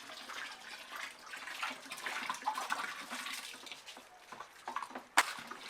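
Detergent chemical powder being stirred and dissolved in water for homemade detergent powder, with splashing, sloshing water and scattered clinks from a container, fairly quiet, and a sharp knock near the end.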